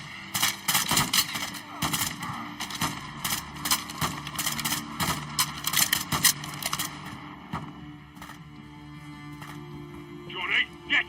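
Call of Duty: Modern Warfare 2 combat gunfire, repeated sharp shots and machine-gun bursts over several seconds under shouted talk, thinning out toward the end.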